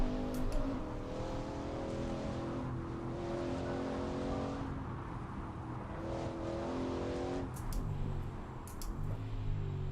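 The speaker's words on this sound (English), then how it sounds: "You have to just concentrate whilst driving this car." A car is driven in a racing video game, its engine note rising and falling through gear shifts with revving and brief tire squeal, loud and continuous throughout.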